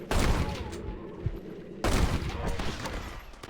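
Gunfire erupts in a Red Dead Redemption shootout, with dense overlapping shots, a loud burst at the start and another sharp volley midway, over a busy game soundscape with voices in the mix.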